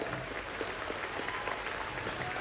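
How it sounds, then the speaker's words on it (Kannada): Audience at a religious gathering at a monastery applauding, a dense, steady wash of clapping throughout. "ಈಗ ಬರ್ಬೇಕು ಚಪ್ಪಾಳೆ"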